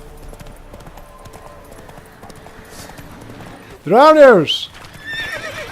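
Horse in The Witcher 3 lets out a loud, close, wavering neigh amid hoof clatter, following a stretch of quieter in-game background with a voice calling out.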